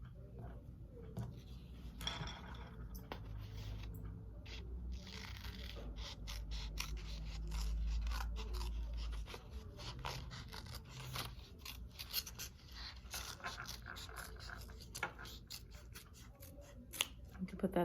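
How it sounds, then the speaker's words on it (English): Scissors snip through paper, cutting out a heart shape, in quiet, close crisp clicks and slicing strokes over a low room hum with faint rustling. "So you're gonna cut out your heart first for the beak."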